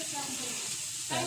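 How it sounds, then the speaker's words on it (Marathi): Dal tempering in a small kadhai, spices frying in hot oil, gives a steady close sizzle for the whole moment, with a sharper burst of crackle near the end and a little background talk. "चाललं वरणाला फोडणी द्यायचं काम।"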